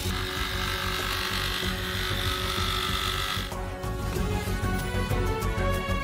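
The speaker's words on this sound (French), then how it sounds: "Et sciez le tuyau avec une scie sauteuse." A jigsaw saws through a large pipe, giving a steady, dense mechanical buzz that carries on throughout and grows harsher and more rattling in the second half.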